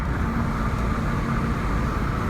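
A Porsche fitted with a sports exhaust system driving with the exhaust in its normal setting, giving a steady, loud engine and road drone heard from inside the car.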